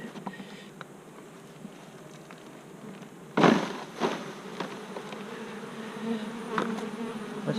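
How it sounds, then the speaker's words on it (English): Honeybees buzzing in a low steady drone during a summer-heat mite check with an alcohol wash, with a few sharp knocks and rustles partway through. "Get these bees down here and get us a whole cup"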